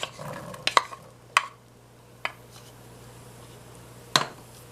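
A spoon scrapes and clinks a few times against a pot while onions and peppers soften for a hot dog stew, sharp isolated taps over a faint quiet sizzle.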